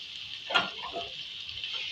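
Aloo gobi with ground red chilli cooks in a pan with a steady soft sizzle, broken by one brief scrape of stirring near the middle, close and quiet, no voices.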